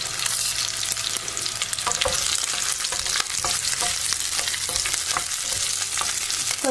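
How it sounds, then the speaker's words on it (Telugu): Dried and green chillies sizzle steadily in hot oil for a chutney of gooseberry and green chilli, with urad dal added and scattered stirring clicks over the continuous loud frying hiss. "మనకి ఇప్పుడు ఎండుమిరపకాయలు పచ్చిమిరపకాయలు వేగినాయి కదా, దీనిలో మినపప్పు వేసుకుందాం."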